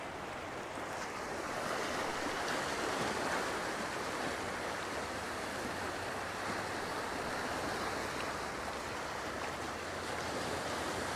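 Ocean waves breaking on the shore near a point on a windy day, a steady, loud wash of surf with broadband rumble and no voices.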